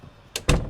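Two heavy knocks at a door in Project Zomboid, a lighter thump followed by a louder booming bang, close and with no voices over them.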